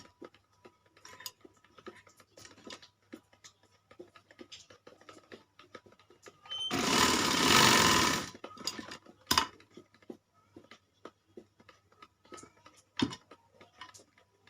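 A sewing machine stitching a child's kalidar kurta runs in one short, dense burst of about a second and a half. Quiet clicks and fabric handling come before and after it.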